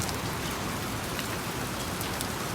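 Violent hail pelts down in a Tucson storm, a dense, constant roar of stones hammering surfaces close by with no letup.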